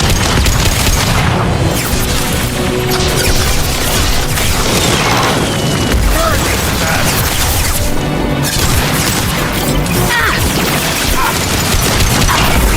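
Dense, continuous gunfire and booming explosions from a Mass Effect 2 firefight aboard the Collector ship, loud throughout with repeated heavy blasts and crashes and occasional faint voices underneath.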